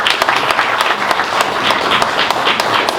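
Continuous applause from an awards-ceremony audience at SAMA 2019, a steady wash of many hands clapping at fairly constant loudness.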